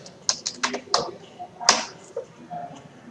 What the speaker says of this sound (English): Let me just input the let me just type my password here.